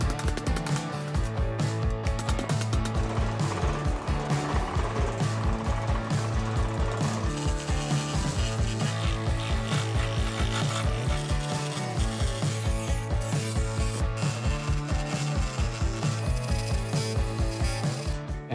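A power hammer shapes a piece of scrap metal into a cafe racer seat hump, beating out a fast, steady train of loud metallic blows that runs unbroken and close-up from start to finish.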